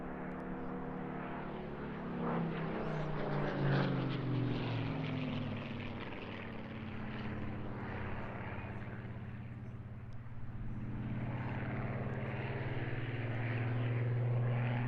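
A Supermarine Spitfire powered by a Rolls-Royce engine, in 1945 tactical reconnaissance markings, drones steadily overhead at an airshow, its deep propeller roar swelling and easing slightly across the pass with no talk.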